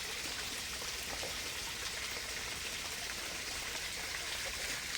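A forest stream flows steadily, a soft, continuous wash of trickling water heard alone at a low level, with no voices.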